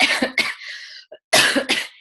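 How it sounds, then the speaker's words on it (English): Several harsh bronchitis coughs in two clusters with a short quiet gap between them, close and loud, no talking. "Excuse my coughing."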